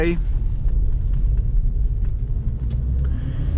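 A 2002 Porsche 911 Carrera 996.2 engine, freshly rebuilt, rumbles steadily and loud in first gear with the handbrake on, a continuous low throb close by with a faint voice over it.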